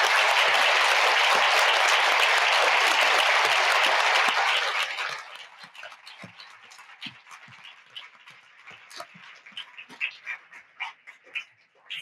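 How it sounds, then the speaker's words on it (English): Conference attendees in a hotel give a dense round of applause that holds steady for several seconds, then quickly dies away into scattered claps, shuffling and quiet room sounds. "give them a round of applause"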